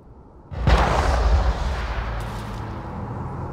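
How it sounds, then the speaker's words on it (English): A gunshot in the video game Mass Effect: a sudden loud blast with a heavy low-end boom, followed by a sustained rumbling tail that slowly fades over a few seconds, with no voices. "I assume that was the gunshot that killed him?"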